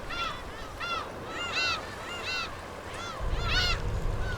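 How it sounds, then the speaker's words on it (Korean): Waterbirds calling around a sea aquaculture farm, a series of repeated honking, goose-like calls over a steady outdoor wash of water and wind, with a lower rumble joining near the end. "바다 양식장은 이제 새들의 세상이 됐다."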